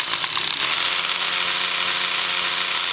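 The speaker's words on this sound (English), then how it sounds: "So here you see the Makita roto hammer. It has a 3/8 masonry bit attached to the front end." A Makita rotary hammer with a 3/8 masonry bit drills into concrete to install a bike dock, starting with a few rapid stuttering bursts that settle into a continuous, loud, high-pitched grinding whir.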